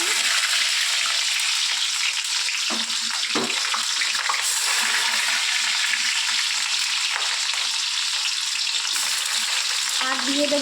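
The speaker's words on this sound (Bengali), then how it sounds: "তেলের মধ্যে আমরা পেঁয়াজ দিয়ে দেব।" Onions fry in hot oil in a pan, a steady loud sizzle with a few stirring scrapes and clinks, close and continuous with no voices.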